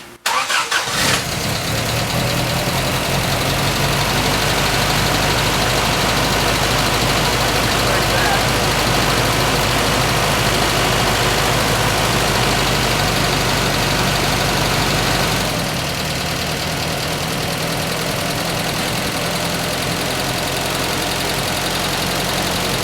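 Willys CJ3B engine, with water in the oil, cranking and catching, then idling loud and steady nearby with a rough, knocking edge. Around fifteen seconds in the idle drops to a quieter, lower level.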